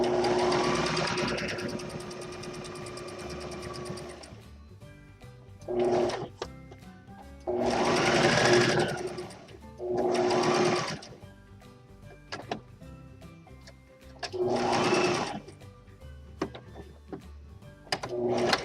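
Fast bursts of a sewing machine stitching fleece for an owl project, several short runs separated by pauses with small clicks, close and moderately loud after a longer opening run.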